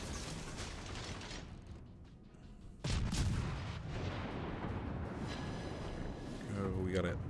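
Warship guns fire during a naval battle in the game World of Warships Legends, with a sharp heavy blast near the middle followed by sustained rumbling battle noise and a few later booms, loud and close throughout.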